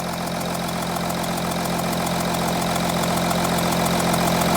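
An Audi Q7 diesel engine idles steadily nearby with a rough, rhythmic knocking clatter, constant and unbroken, no voices.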